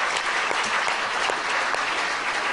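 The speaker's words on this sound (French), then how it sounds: "Let's give a big applause to that." Audience applause at a healing testimony retreat in Lyon, a sustained crowd of clapping hands with individual claps popping through a steady roar, fairly distant and even, with no speech over it.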